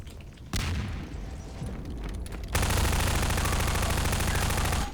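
Gunfire in the video game Half-Life 2: Prospekt: scattered shots, then a long, loud, sustained automatic burst that fills the second half, close and dense.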